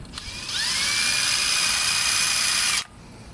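An impact wrench spins steadily for a few seconds during a sway bar bushing install on a Subaru WRX, giving a loud high whine with no hammering, then cuts off abruptly.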